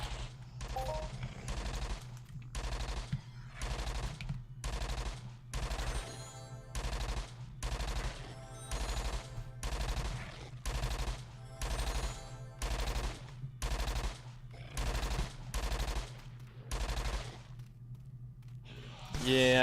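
Repeated bursts of rapid automatic gunfire in the online game Entropia Universe, in a cave area, about a dozen regular volleys each lasting roughly a second, steady and prominent over a low background hum.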